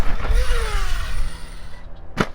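An Arrma Mojave RC car on a dusty motocross track whines as its motor pitch climbs and then falls through a jump, with a sharp landing thud near the end.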